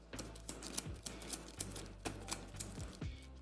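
Playing cards from a dungeon dice board game being shuffled back into the deck, a steady run of light, close riffling snaps and taps over a faint low hum, with no talking.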